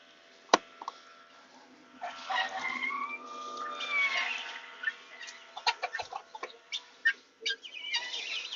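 Chickens cluck in a barn, with an intermittent mix of short clucks and drawn-out squawking calls, some sharp and close, over a quiet background.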